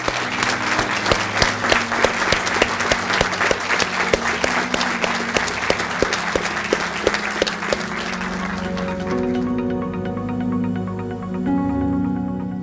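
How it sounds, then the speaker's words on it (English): An awards-ceremony audience applauds, dense steady clapping with sharp rhythmic claps for several seconds before thinning into softer, scattered applause. "Let's give them a round of applause."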